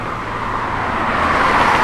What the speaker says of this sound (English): It's got good sound and Flowmaster dual exhaust with the chrome tips.